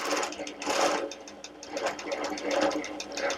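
A sewing machine stitches a flying geese quilt block in close, quick, rhythmic whirring bursts that surge and ease several times, with no talking.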